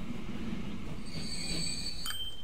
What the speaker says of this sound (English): as soon as our train gets in here